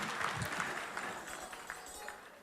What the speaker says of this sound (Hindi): एक बार तालियां विश्वनाथ जी के लिए और संदीप भाई की पूरी टीम के लिए